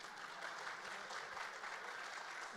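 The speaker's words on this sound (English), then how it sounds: "You can clap for that if you agree." Conference audience at a competition law and economics event claps in steady, moderately distant applause that continues evenly throughout the short stretch.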